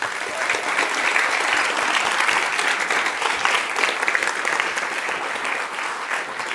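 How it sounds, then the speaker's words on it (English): Warm applause at a festival opening for the artists and organizations involved, a steady, dense crowd of clapping hands sustained throughout, fairly close and even, with no speech over it. "I would like to ask you for a warm applause for all the artists and organizations making this possible."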